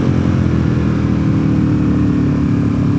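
A sport bike motorcycle rides a chip-sealed road in western North Carolina, its engine droning steadily and loudly up close with a constant rough tire and wind roar, no voices.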